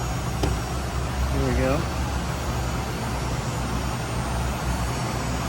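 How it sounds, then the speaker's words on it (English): A Ryobi cordless hot air gun runs with a steady, even blowing roar that holds throughout, while someone briefly speaks over it near the start. "I'm going to start our Ryobi hot air gun."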